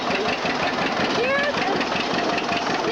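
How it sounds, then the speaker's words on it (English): An old 1950 tractor engine runs steadily with a rough, knocking idle, loud and continuous throughout. "Here's an old tractor, 1950."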